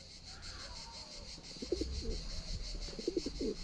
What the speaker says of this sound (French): Et vous vous occupez des pigeons?